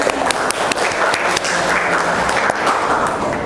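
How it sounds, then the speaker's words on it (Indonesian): Classroom audience clapping for a student group, a dense, lively patter of many hands with sharp individual claps, sustained throughout with a few voices mixed in. "Kita berikan tepuk tangan untuk kelompok 1"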